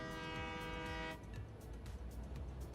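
A train horn sounds in the factory-building video game Satisfactory, a loud sustained harmonic blast lasting about a second, then cutting off into rumbling train and machinery noise.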